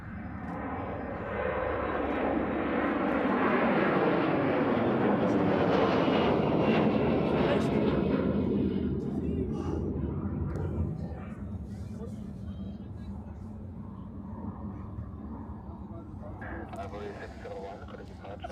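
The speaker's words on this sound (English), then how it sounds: "I like this Boeing aircraft. Very nice, long takeoff run, perfect for this location. Delta 767," A Delta Boeing 767 jet roars through a long takeoff run at Zurich airport in freezing weather, the engine noise swelling loud and then slowly fading into the distance while people chat nearby.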